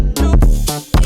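Chopped vocal snippets from a dance remix of a song, pitched up and down, sound as a few short, loud, close bursts with abrupt cuts between them.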